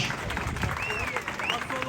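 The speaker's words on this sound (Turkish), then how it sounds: "Yürekten bir alkış." Crowd clapping at a Turkish bull wrestling event in Muğla, a brief, busy patter of applause mixed with outdoor crowd noise and a voice over a loudspeaker.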